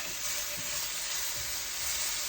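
Beef strips, cooking with vegetables and Pad Thai mix, sizzle steadily in an enameled cast iron pan, a close, continuous crackling hiss with no talk.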